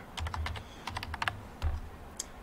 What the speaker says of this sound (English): Then type in your school password,